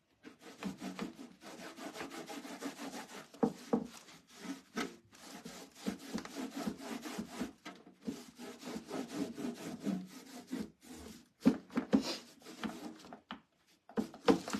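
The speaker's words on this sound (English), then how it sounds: "rub it all in and then wipe it back" Whitewash finish is rubbed by hand into a metal wall shelf, making a continuous rhythmic scrubbing and rasping with brief pauses between strokes.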